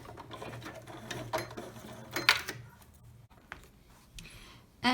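A sewing machine back stitches the edge of a fabric glasses pouch, its needle whirring in a steady close-up run that slows and trails off, followed by a short sharp knock at the end.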